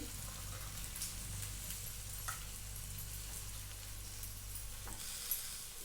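Chillies fry in hot oil for an okra curry, a faint, even sizzle with soft crackles and a couple of small ticks, nobody speaking.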